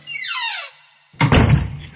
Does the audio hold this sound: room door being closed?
yes